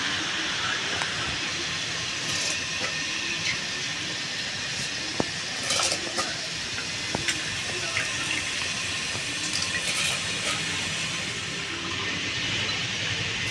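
Water at a rolling boil in a pot as soaked Lakshmibhog rice is added, a steady close broadband hiss and bubbling with a few small splashes and clinks, no talking.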